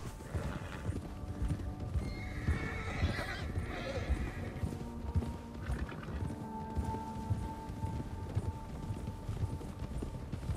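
Horse hooves clip-clop at a fast gallop in a video game horse race, with a whinny rising over the drumming rhythm, against a steady background of game music.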